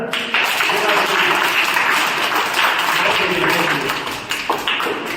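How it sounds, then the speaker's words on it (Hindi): A roomful of teachers at a counseling training session applauds in a dense, steady burst of clapping that fills the whole stretch, with some voices mixed in. "एक बार तालियां बेटा"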